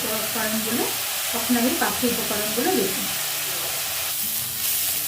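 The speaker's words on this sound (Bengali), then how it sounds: "পেঁয়াজটা ভাজা হয়ে গেছে" Onion frying in oil in a pan for egg malai curry, a steady sizzle running throughout with a voice talking over it.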